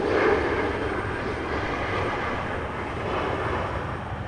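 A McDonnell Douglas MD-11 airliner at Raleigh-Durham International Airport gives off a steady, broad engine roar that holds at an even level throughout, heard from a distance with no talk.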